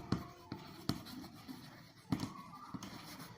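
Chalk or a marker taps and strokes across a board while a math problem is written out, sharp short knocks at an irregular pace with quieter scratching between them, close and clear.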